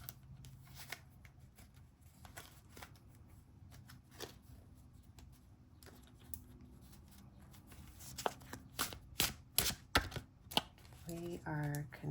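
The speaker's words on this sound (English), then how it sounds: "let's draw some tarot cards, and I may come back to these oracle cards" Tarot cards being drawn and shuffled, soft papery riffles and taps close by at low volume, growing busier with a burst of crisp flicks toward the end.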